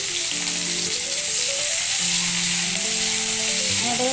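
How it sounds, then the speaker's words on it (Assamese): Onions sizzle and fry in oil left over from frying fish, in a kadai, while a tori fish curry is being made. A steady, loud, close-up crackle runs throughout, with a faint tonal hum in the background. "এতিয়া মাছ ভজা তেলতে মই পিঁয়াজখিনি বহুৱাই দিম"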